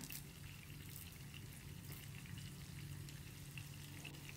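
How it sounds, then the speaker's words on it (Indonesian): Sambal belacan, a shrimp paste and chili paste, fries steadily in hot cooking oil with a continuous, even sizzle and crackle close by, heard alone without talk. "Kita goreng aja bahan sambal belacannya."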